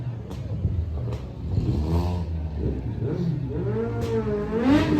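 Loud cars rev hard at an outdoor car and bike meet, with engine notes sweeping up and down in pitch in repeated bursts, growing louder toward the end.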